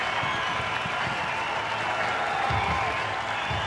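A stadium crowd at a 2009 NRL rugby league match between Manly-Warringah Sea Eagles and New Zealand Warriors cheers and applauds steadily as the team runs out, forming a dense, continuous roar with no clear voices standing out.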